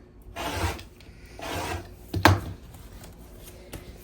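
Quilted fabric from an old quilt being trimmed, a few close rasping cuts in separate strokes with a sharper snip near the middle, no talking.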